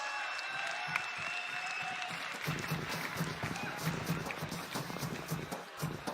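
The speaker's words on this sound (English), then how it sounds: "I can hear that the crowd are actually applauding this man's work." A crowd at a PUBG Mobile esports finals event claps and applauds continuously, the clapping thickening partway through into a dense, lively wash of hands.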